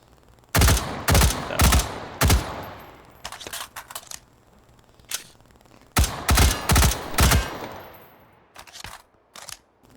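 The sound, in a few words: gunfire from VR video game H3VR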